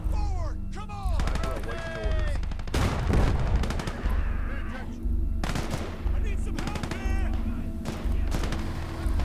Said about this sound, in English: there's a second MG42